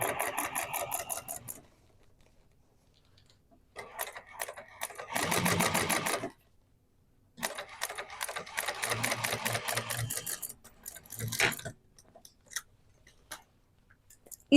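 A sewing machine top-stitches a duffel bag in several quick bursts, its needle chattering close by, separated by short quiet gaps.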